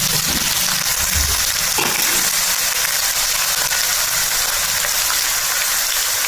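Ginger and garlic fry with fenugreek in hot oil for a traditional lemon pickle, a loud, continuous close sizzle with faint stirring scrapes underneath and no break.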